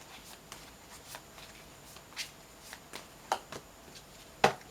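Tarot cards are shuffled by hand in a quiet room, giving soft, scattered riffling and tapping sounds with a few sharper slaps of cards, faint overall.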